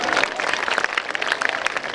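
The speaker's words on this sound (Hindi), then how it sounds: "आपको मजा आ रहा है तो एक बार जोरदार तालियां बजाइए।" An audience at a live laughter comedy show in Orissa breaks into loud, dense applause, a busy patter of many hands clapping with uneven bursts, heard on its own.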